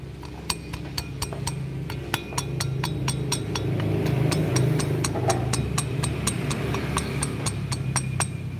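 A 4-stroke motorcycle engine runs with a knocking fault, sharp metallic ticks repeating at a fairly even rhythm above a low, steady idle rumble, close and clear.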